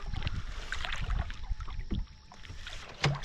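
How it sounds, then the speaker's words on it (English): Canoe paddle strokes dipping and swishing through lake water on a calm evening fishing trip, with irregular splashes and drips close by over faint wind and water lapping. "It's a nice night paddle though, or evening paddle."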